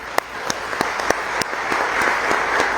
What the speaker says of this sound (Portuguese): eu gostaria que você aplaudisse a Jesus pela vida dele